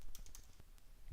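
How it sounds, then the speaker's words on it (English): A short burst of typing on a computer keyboard, with quiet, close keystrokes at an uneven pace and one sharper click at the end. "I'll just come up and type administrator"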